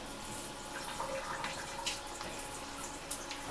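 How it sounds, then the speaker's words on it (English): A shower head sprays water across tiled walls in a shower being prepped for cleaning, a steady, fairly soft hiss of running water with small splashy spikes, continuous throughout with no talking. "So I'm just going to wet the shower."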